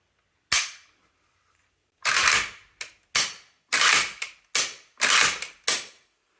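Sharp trigger clicks from a KP-104 AK-style pistol, heard close and loud in an irregular run of about eight snaps with brief ringing tails and silence between, and no talking.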